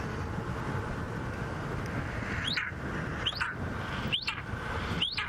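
A person on a sunrise safari drive tries to imitate an eagle's call, making four descending, whistle-like cries spaced about a second apart over steady wind and vehicle rumble.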